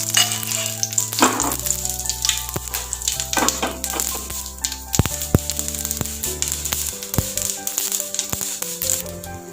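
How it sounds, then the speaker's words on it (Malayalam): Fenugreek seeds join popping mustard seeds in hot coconut oil, giving a loud continuous sizzle with scattered sharp crackles and occasional stirring scrapes close by. "കടുക് പൊട്ടിക്കഴിഞ്ഞാൽ അതിലേക്ക് ഉലുവ ഇട്ട് കൊടുക്കാം"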